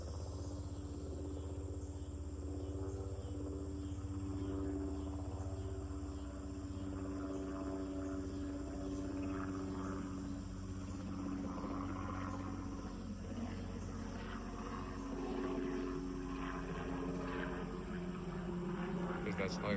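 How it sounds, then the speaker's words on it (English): A helicopter passes at a distance, a steady low droning throb held under faint outdoor background noise for about twenty seconds, with its pitch shifting slightly as it goes by. "We can wait for this helicopter to go past."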